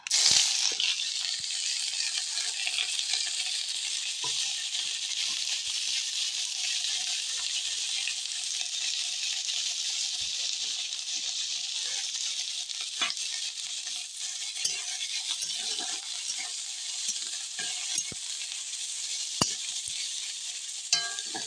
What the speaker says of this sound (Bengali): কড়াতে আমি আগে থেকেই তেল দিয়ে দিয়েছি তেলটা গরম হয়ে গেছে এবার আমি কুচি করে রাখা পেঁয়াজটাও দিয়ে দেবো